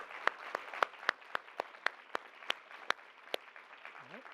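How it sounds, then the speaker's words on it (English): Sparse applause from a conference audience honoring panelists and speakers at day-two closing remarks: about a dozen distinct, fairly evenly spaced claps over a quiet room, with a brief faint voice near the end. "Let's have a round of applause for all of them."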